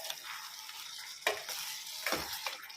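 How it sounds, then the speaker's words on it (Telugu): Gongura chicken curry with tomatoes and crystal salt is stirred in a pan, a soft steady sizzle with two distinct scraping strokes, fairly quiet and close. "ఇప్పుడు మంచి కలుపుకుందాం ఒకసారి."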